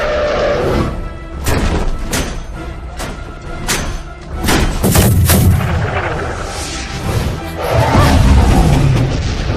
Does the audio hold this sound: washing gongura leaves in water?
no